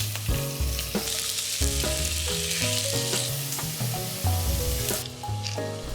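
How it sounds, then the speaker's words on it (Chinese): Costco prawns, peeled and patted dry, fry in a tablespoon of olive oil in a pan with a steady, close sizzle, partly under prominent background music. "将虾的2面煎一下。"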